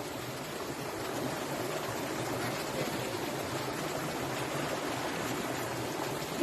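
Steady rushing of creek water flowing over rocks, a continuous broadband wash that stays even and fairly close throughout with no talking.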